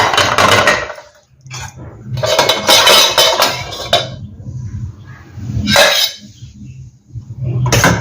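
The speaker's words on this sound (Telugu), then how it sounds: "కుక్కర్ చల్లారింది ఒకసారి తీసి చూద్దాం" A pressure cooker opened after cooling while making weight-loss khichdi, with loud metallic clanks and scraping of the lid and pot in separate bursts and short quiet gaps between them.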